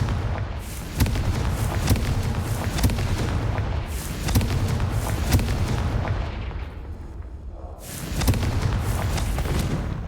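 Repeated fiery blasts of the Confringo spell in the Hogwarts Legacy video game, loud booming bursts firing in a steady rhythm over several seconds, with a brief lull before another strong blast.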